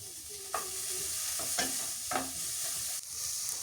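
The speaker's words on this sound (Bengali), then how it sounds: "মরিচ পেঁয়াজটা আগে ভাজে নিলাম নাহলে চটকে চটকে শরীরে লাগছে" Onions and chillies fry in hot oil in a pan, a steady sizzle broken by several sharp stirring scrapes and spatters, close and fairly loud with no talking.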